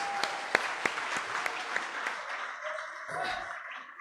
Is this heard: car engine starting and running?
no